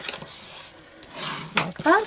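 Scored paper being folded by hand into a one-sheet gift bag, with a few crisp crinkling and rubbing sounds up close, then a brief creak and a short vocal-like chirp near the end.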